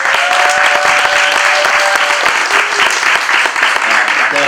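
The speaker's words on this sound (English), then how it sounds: "Give them a big round of applause" Audience applause for two film performers at a screening event, loud and sustained, with cheers and voices mixed into the dense clapping throughout.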